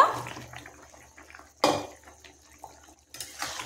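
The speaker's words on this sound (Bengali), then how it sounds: "এখানে সমস্ত ভেজে রাখা ফুলুরিগুলো দিয়ে দেব" Fried gram-flour fritters drop into a pot of boiling curry, with a few sharp utensil clinks against the metal at intervals and a faint bubbling in between, close and fairly quiet.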